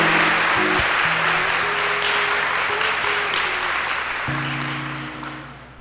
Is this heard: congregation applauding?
yes